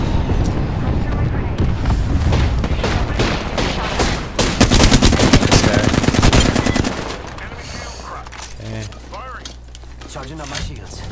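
In an Apex Legends-style battle royale match, another team's gunfire rattles in rapid automatic bursts and scattered shots, loud and close for several seconds before easing off, with players talking over it.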